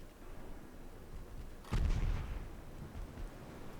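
A naval battle video game: a heavy cruiser and an AI-designed battleship exchange fire, secondary guns booming in a sudden loud burst midway through, then rumbling off over a steady low background roar.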